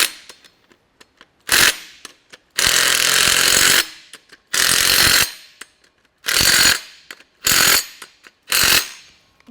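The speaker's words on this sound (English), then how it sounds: "I usually hit it with the wrench first, and then I go to 50" A wrench tightening bolts on a race bike, sounding as a series of loud, close mechanical bursts: a short burst, one long run and several shorter runs separated by quiet gaps and faint clicks.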